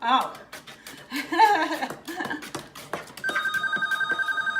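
A telephone rings with a repeating electronic bell pattern near the end, following a stretch of chuckling and talking voices in a home kitchen.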